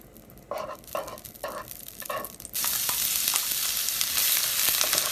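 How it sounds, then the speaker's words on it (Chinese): Lard hits a hot wok and breaks into a loud, steady sizzle after a few soft knocks and scrapes, hissing continuously to the end with no talking. "第一步，荤油下锅。"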